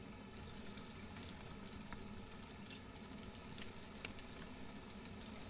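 Eggplant and zucchini meatballs fry steadily in hot oil, a dense, even crackling sizzle close by with no talk.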